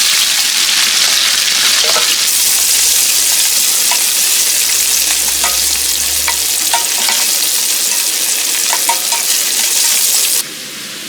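Sliced onions sizzle steadily in a pan over medium gas, a continuous close frying hiss with occasional stirring clicks, before the sound drops away near the end.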